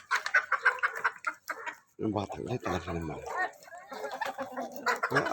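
Chickens cluck and squawk repeatedly close by while people talk over them, the bird calls mixing with the chatter throughout.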